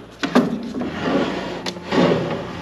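Wooden drawers in an abandoned house slide open and shut close by, making a few short scraping rubs and knocks.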